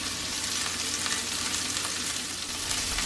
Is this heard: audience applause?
no